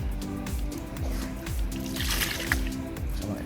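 Water is poured and splashed over a freshly caught carp on the bank during a syndicate fishing session, a close, continuous trickling and dribbling with gurgles and a few drips.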